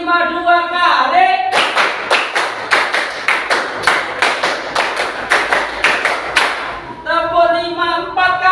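Children clap a rhythmic pattern together at a school lesson, a burst of about a dozen sharp group claps in a steady beat, with a teacher's voice speaking before and after.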